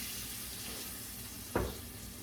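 Chicken stock is splashed in small amounts into a hot pan for Marry Me Chicken with sun-dried tomatoes. A soft, steady sizzle breaks into a single sharp hissing burst that quickly fades, with no voices.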